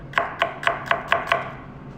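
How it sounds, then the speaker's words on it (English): A knife chops an onion with a radial cut on a cutting board: six crisp, evenly spaced chops land close and clear in about two seconds. "So the way that I cut the onion, it's called a radial cut."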